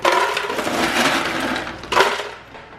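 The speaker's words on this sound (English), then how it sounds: "So we're gonna put some ice in this." Ice cubes tumble into a big thick blender jug, a dense clattering crash that rattles for over a second, with a second burst of cubes near the end.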